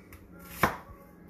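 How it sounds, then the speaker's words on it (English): A single sharp knife chop through vegetables on a cutting board while a sauce is prepared for lobster Napoleon, close and crisp against a quiet kitchen background, no talking. "he's just chopping up vegetables for the sauce"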